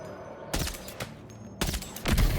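Gunshots in the video game Death Stranding 2, two sharp loud bursts of fire with a fainter pop between them, each shot followed by a brief echoing tail over quiet background.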